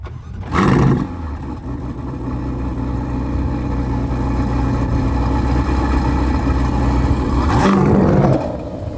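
A tuned Alfa Romeo Giulia Quadrifoglio with a modified exhaust holds a loud, steady engine roar for several seconds, with sharp bursts at the start and near the end, and no voices.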